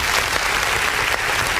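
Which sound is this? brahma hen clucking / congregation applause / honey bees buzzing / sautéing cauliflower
congregation applause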